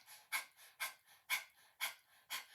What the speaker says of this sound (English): try it with your mouth open, have your tongue hanging out like you're panting like a fierce lion or puppy dog